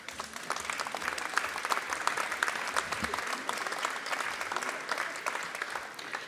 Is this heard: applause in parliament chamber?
yes